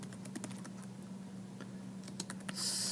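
Typing on a computer keyboard, quiet irregular key clicks over a faint steady hum, ending in a brief louder burst of noise, with no voices.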